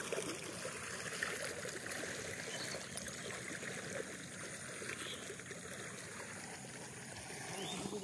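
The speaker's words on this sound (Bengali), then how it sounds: "এই যে জল দিচ্ছে এখন সকালে।" Irrigation water flows steadily into a rice paddy field in the morning, a faint, continuous trickling and gurgling stream with distant background noise and no talk.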